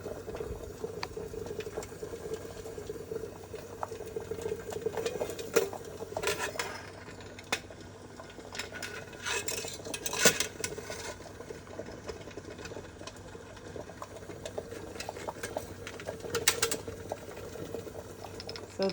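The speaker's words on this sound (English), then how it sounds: "Adding it to the double boiler, and it will heat up. So the wax is just about melted." Beeswax melting in a double boiler gives a soft, continuous bubbling simmer with faint irregular pops and a low hum, fairly quiet and without talk.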